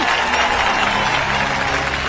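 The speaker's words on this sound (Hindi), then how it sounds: "ताली बजाओ, ताली" An audience breaks into clapping, a brief dense wash of many hands, fairly loud and steady.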